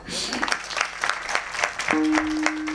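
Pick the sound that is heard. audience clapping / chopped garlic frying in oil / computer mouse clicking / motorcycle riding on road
audience clapping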